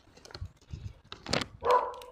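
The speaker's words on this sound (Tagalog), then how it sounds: "Kaya lang may pasaway na aso." A dog barks a few times at a distance in Cyprus, short faint yaps with a louder bark near the end, against a quiet background.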